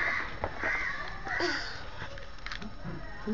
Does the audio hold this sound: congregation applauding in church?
no